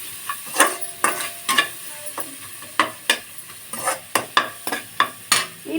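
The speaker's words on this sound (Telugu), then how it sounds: "పోపు కూడా మంచిగా వేగిపోయిందండి." Tempering spices for murmura upma fry in a pan while a spoon scrapes and stirs in quick, irregular strokes over a light background sizzle, close and clear with no voices.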